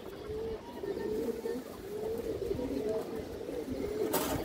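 Pigeon cooing on a farm, soft repeated low coos running through the whole stretch under a light background hum.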